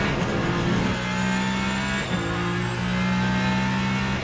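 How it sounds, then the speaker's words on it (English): A race car engine in Le Mans Ultimate hums and whines with a sustained electronic recharge tone, briefly dipping then rising again, steady and close. "I love the recharge sound of this car."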